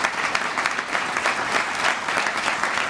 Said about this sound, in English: Let's give a big round of applause to the Reach Corps AmeriCorps.